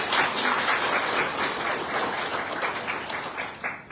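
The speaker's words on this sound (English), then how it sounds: "one final round of applause" Dense audience applause at a Miss Pacific Islands pageant event, a steady roar of many hands clapping throughout, loud and close, fading slightly at the end.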